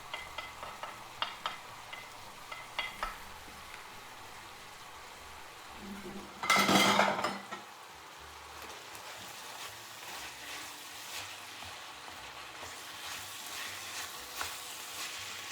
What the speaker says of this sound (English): Add the onion and the garlic into the pan with the pork.